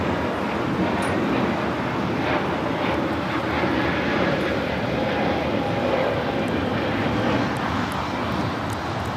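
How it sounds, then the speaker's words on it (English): An Airbus A321neo airliner takes off at LAX, its engines a loud, steady broadband roar that holds constant and close throughout, with no voices. "This is Spirit Airlines 110 taking off to Salt Lake City on the A321neo."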